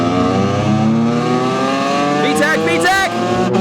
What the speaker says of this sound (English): Get ready for the Honda exhaust.